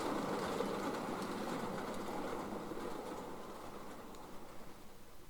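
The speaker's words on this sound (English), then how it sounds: "the wheezing J6 heads a mixed freight westwards" Model J6 steam locomotive heading a mixed freight train westwards, with a steady, moderately distant rolling rumble that fades slightly toward the end, no voices.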